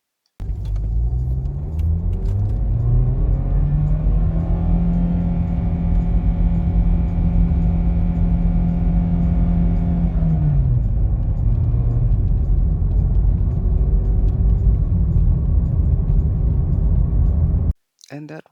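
A VW-group car engine with a faulty mechatronic gearbox unit drones loudly up close, its pitch climbing and holding high before dropping abruptly, then rumbling on unevenly until it cuts off.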